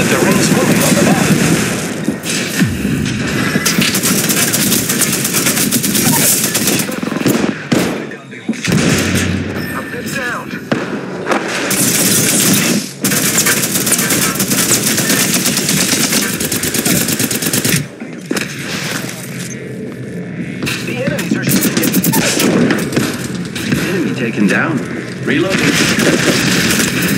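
Dense, loud gunfire in the game Apex Legends, near-constant automatic bursts and heavy shots with brief lulls, with a character's voice heard over the shooting.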